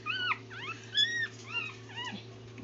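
Newborn puppies whimper and squeak close by in a run of short, high, rising cries with brief gaps, over a low steady hum.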